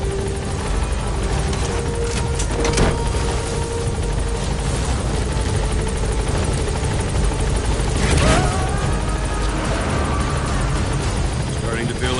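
In the war game Metal Gear Solid V: The Phantom Pain, a helicopter drones loudly and steadily with a thick rotor rumble throughout, while voices talk over it.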